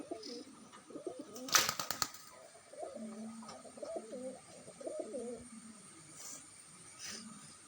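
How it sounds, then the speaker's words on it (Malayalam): A pigeon coos softly and repeatedly in low, rolling phrases, with a brief clattering rustle early on and a quiet background hiss. "നല്ല അടിപൊളിയായിട്ട് തന്നെ കുറുകുന്നുണ്ട്"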